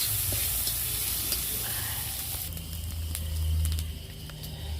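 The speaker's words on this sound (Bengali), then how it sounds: "এর মধ্যে দিয়ে দেবো মাছের তেল আর পোঁটা। এর থেকে অনেকটা তেল বেরোবে।" Fish oil, fish fat and roe frying in a pan, a steady sizzle with scattered crackles and pops, fairly close and continuous.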